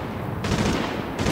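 Video-game gunfire from The Division, a battle between National Guard, LMB and rioter NPCs, heard as continuous rattling automatic bursts with a sharper, louder volley starting partway through and another near the end.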